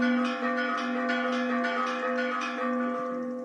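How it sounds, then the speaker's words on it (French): Church bells ring in a steady, repeated peal, each stroke leaving a sustained humming tone, heard at a moderate distance and alone. "Je sais pas si tu m'entends avec les cloches de l'église"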